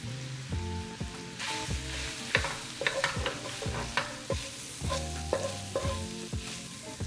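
Ground taco meat coated in spices and cornstarch fries in a pan, a soft steady sizzle broken by repeated scraping strokes of a spoon stirring it, close and without talk.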